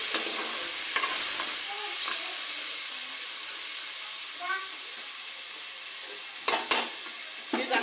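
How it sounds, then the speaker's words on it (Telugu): Tomatoes stirred in a hot frying pan give a steady soft sizzle with a few scraping strokes of a spoon, close by and even throughout, with sharper clinks near the end. "ఇప్పుడు టమాటాలు వేసుకోవాలి. ఇప్పుడు ఇది బాగా కలుపుకోవాలి."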